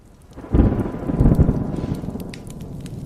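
A thunderstorm with rain, a heavy rolling boom of thunder that swells in after half a second and rumbles on, fading slowly under steady rain, with scattered sharp drops pattering on a surface.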